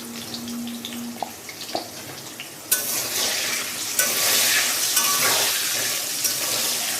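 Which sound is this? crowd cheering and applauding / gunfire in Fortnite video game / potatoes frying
potatoes frying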